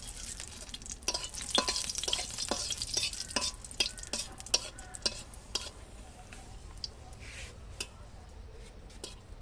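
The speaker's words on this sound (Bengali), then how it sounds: "কড়াইতে আমি সরিষার তেল দিয়েছি, লঙ্কা দিয়েছি।" Mustard oil sizzles in a pan with dry red chillies frying while a spoon scrapes and stirs in repeated strokes, the frying hiss steady underneath.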